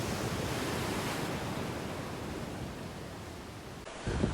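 Sea waves wash continuously onto a beach in Cabedelo near João Pessoa, Brazil, where the river meets the sea, forming a steady, broad roar with wind, no voices heard.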